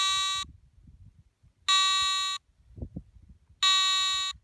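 A Garrett ATX metal detector sounds three long, buzzy electronic beeps in a row, evenly spaced with quiet handling noise between, once its frequency scan finishes.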